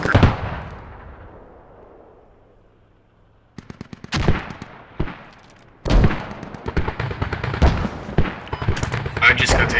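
Mortar shells landing in the military shooter Squad, opening with a long rumbling decay, then sharp distant blasts and crackling bursts of gunfire that build into a dense, loud barrage.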